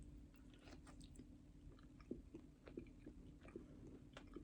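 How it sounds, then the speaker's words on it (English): Close, quiet chewing of a chicken casserole with mushrooms and a breadcrumb topping, soft moist bites and a few faint crunches spread over several seconds, with no talking. "Got a wonderful chew."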